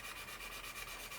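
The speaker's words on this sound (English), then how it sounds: "sanding strip, and you just gently sand away." Medium flexi file sanding strip gently rubbed over a plastic 1/48 Airfix Spitfire model kit part, producing faint, soft rhythmic scratching strokes close up and quiet.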